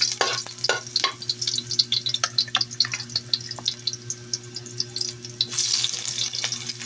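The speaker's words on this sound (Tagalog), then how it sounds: "papaano muna natin sibuyas, luya. Gigisa lang natin." Onion and ginger sautéing in a pan for chicken curry, a series of quick scraping, clattering stirring strokes over a steady hiss and a low hum, close and moderately loud, with a watery rush toward the end.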